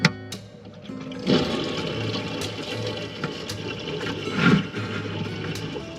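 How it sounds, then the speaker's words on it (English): The water pump of a Grand Design Momentum 25G RV hums steadily while drawing antifreeze through a hose, with a watery rushing flow and a couple of louder surges over the continuous drone. "Turn on the pump."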